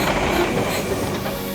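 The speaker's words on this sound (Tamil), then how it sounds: "ட்ரெயின் கிளம்பிடுச்சு." Loud, continuous rumble of a train rolling along the rails, close by and steady, with faint clacking.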